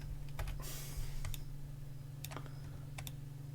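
Computer keys pressed in a few quick, light clicks, with a short cluster early and another pair later, heard close but faint over a steady low electrical hum.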